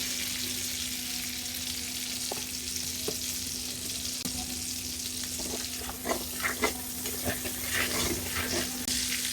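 Oil sizzles and fries steadily in a kadai while prawn malai curry is cooked, a continuous close hiss with a few sharper crackles and pops toward the end.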